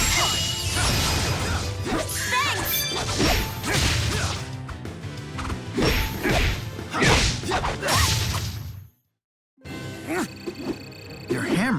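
Heavy hammer power-swing attacks from the action RPG Tales of Xillia 2 land repeatedly as loud whooshes and crashing impacts, busy combat effects layered with voices shouting, then a brief silence before more hits.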